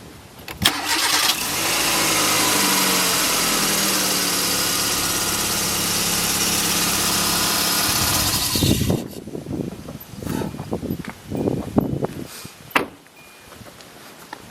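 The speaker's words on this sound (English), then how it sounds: "what I'm going to do now is start the engine and then let it run for a couple of seconds" A 2005–2011 Hyundai Accent engine cranks and catches just after an oil change, then idles steadily and loudly up close for several seconds before being shut off, with movement and handling noises afterward.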